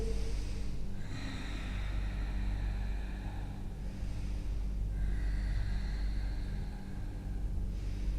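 Slow, deep breathing during a floor-based Pilates stretch, with long audible inhales and exhales repeating steadily over a low background hum, close and fairly quiet.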